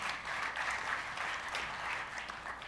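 Conference audience at a .NET developer talk breaking into applause, a moderate, even spread of clapping from a crowd at some distance, lasting a few seconds without speech.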